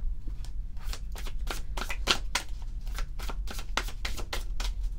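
Tao oracle cards being shuffled by hand, a run of quick crisp riffling bursts in an irregular rhythm, close and fairly loud over a low steady background hum, with no talking.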